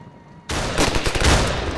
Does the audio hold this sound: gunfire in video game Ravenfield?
yes